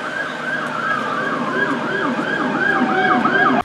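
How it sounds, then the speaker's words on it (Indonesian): An electronic toy fire truck siren wails in a repeating up-and-down pattern, close and fairly loud, before cutting off abruptly. "Ada mobil pemadam kebakaran yang membawa semua alatnya."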